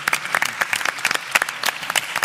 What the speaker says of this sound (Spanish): Así que Laura, por favor, este aplauso también para ella.